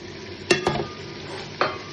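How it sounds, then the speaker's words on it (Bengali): Goat meat and onions frying in a pot give a low steady sizzle, broken by a few sharp stirring scrapes and knocks close by. "পেঁয়াজ দিয়ে মাংসটা প্রায় ভাজা হয়ে গেছে"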